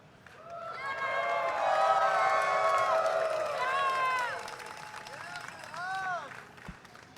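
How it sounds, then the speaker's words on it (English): A crowd at the 2023 CTWC tournament cheers and whoops, the sound swelling and then easing off, with scattered shouts rising above the general roar. "Let me hear that amazing crowd."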